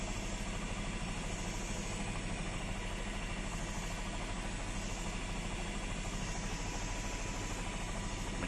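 A helicopter's engine and rotor drone steadily from inside the cabin above the Chicago River, loud and continuous with no pauses.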